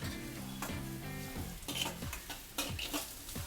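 Steady sizzling and frying of vegetables with curry leaves for egg rice, a spatula repeatedly stirring and scraping against the pan, no voices.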